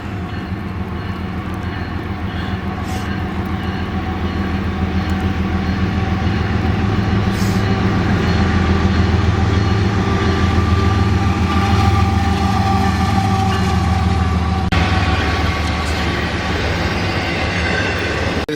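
A short Union Pacific freight train rolls past close by in the snow, a loud continuous rumble of wheels and railcars with engine drone and faint squeals, building and holding throughout, no voices.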